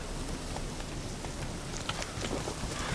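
Steady rain falls in The Witcher 3: Wild Hunt, a dense, even hiss of drops with faint scattered patters, continuous and fairly loud throughout with no talking.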